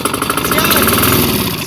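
Small lawn mower engine running with an uneven, rough idle, a steady close mechanical rumble with a faint rhythmic knock and voices talking over it.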